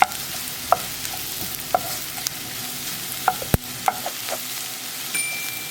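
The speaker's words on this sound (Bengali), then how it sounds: "একটু ভেজে নিতে হবে।" Mushrooms fry softly in a pan with a steady low sizzle, while a utensil stirs and scrapes against the pan in sharp taps every second or so. No one talks.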